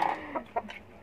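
Black chickens out in their yard give a few short clucks and quick calls, close and moderately loud, over a quiet background.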